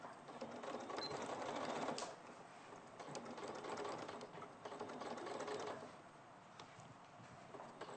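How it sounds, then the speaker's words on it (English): Domestic sewing machine stitching fabric, including short reverse or lock stitches at the start and end of a seam, a faint, rapid mechanical whirring that runs in bursts with brief pauses. "a little bit of reverse stitch or lock stitch at the beginning and at the end."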